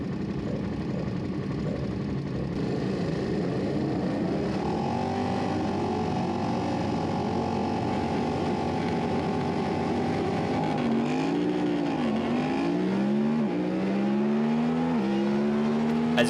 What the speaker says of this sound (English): on my SV650 racing against some R6s and stuff